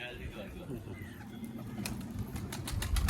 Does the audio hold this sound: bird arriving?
yes